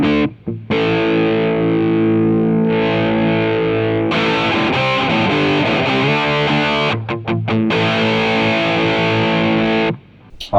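A humbucker-equipped electric guitar plays through a homemade breadboard fuzz into a JSM 800 amp simulation, producing thick, saturated distorted chords and sustained notes. The playing is loud and continuous with brief gaps, and no voices are heard.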